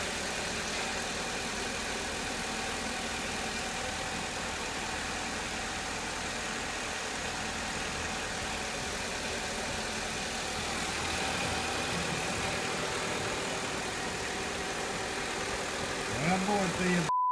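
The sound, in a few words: car engine running after first start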